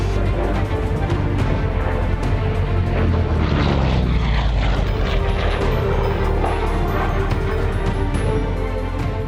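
A Chance-Vought F4U-4 Corsair fighter with a powerful radial engine roars past with a loud, throbbing propeller drone that swells as it nears and shifts in pitch as it sweeps by.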